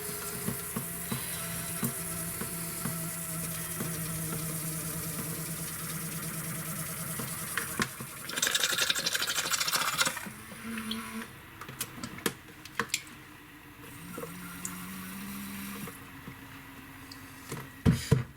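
A small shower pump in an off-grid setup being primed, a steady mechanical hum with sputtering, gurgling water and sharp clicks, rising to a louder rough burst midway, then settling back to a lower whir with scattered knocks.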